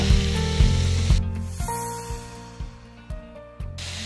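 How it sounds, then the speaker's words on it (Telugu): Chicken fries in a pan with a constant close hiss, and a few sharp knocks, probably stirring or a spatula, land at intervals. No one talks. "చికెన్ కొంచెం లైట్ పింక్ కలర్ రాకుండా పూర్తిగా వైట్గా మారేంత వరకు మనం దీన్ని ఫ్రై చేసేసుకుందాము"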